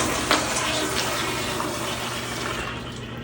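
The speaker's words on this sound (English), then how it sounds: "I like to just flush it." A toilet flushing after cleaning, a loud close rush of water that swirls and drains steadily, then starts to ease toward refilling near the end, with no talking.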